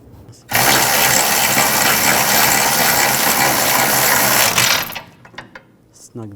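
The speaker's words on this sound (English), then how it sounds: "Get the bolt started." Rear shock mount bolt on a 2011-2018 Volkswagen Jetta being run in by a power tool, a loud continuous whirring buzz lasting about four seconds before cutting off, followed by faint clicks and handling noises.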